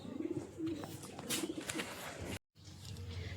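Soft, low pigeon coos repeat in short bursts at a household pigeon roost, fairly quiet, with a brief dropout partway through.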